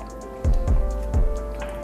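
Sausage-spinach quiche filling is poured into a baking dish, giving three soft, wet plops over a steady low kitchen hum.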